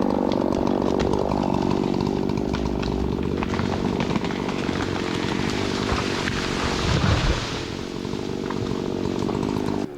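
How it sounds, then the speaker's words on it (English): A chainsaw cuts into a red oak tree outdoors, its engine roaring loud and close without letup for the full stretch, the pitch sagging slightly as the chain bites into the wood. "not till I cut this red oak tree first"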